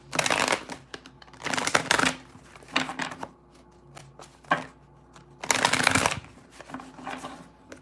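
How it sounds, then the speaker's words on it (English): A deck of cards is shuffled close up in several quick riffling bursts separated by short pauses, with no talking. "I'm just shuffling these cards really good"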